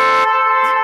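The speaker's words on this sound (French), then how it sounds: "C'est vraiment un vrai klaxon." Horn of a WEPED Sonic X electric scooter: a single loud, close, steady electric honk holding one buzzy tone for about a second.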